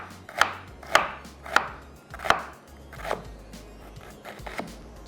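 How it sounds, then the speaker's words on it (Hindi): An onion is sliced with a knife on a board, giving a series of sharp, close chopping taps at an uneven pace, about eight cuts over several seconds, with no talk. "प्याज हो गई हमारी यहाँ पे स्लाइस"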